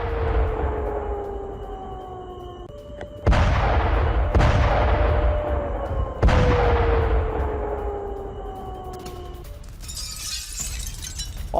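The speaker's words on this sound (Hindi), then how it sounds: "अब जानकारी यहां पर मिल रही है कि एक और विस्फोट हुआ है इसी एयरबेस पर।" Explosions at an airbase after a drone attack: three or four sharp blasts, each followed by a long decaying roar, loud and close, then a burst of broadband crackling noise.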